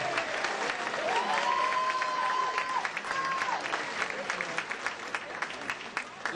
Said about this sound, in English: How about another round of applause for this band?